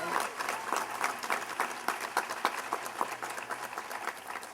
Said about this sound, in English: let's give everybody a round of applause, especially the class of 2009